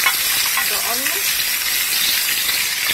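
Onion, garlic and cumin fry in a pan with salt and black pepper, giving a steady, close, broadband sizzle that holds level throughout with faint voice traces beneath.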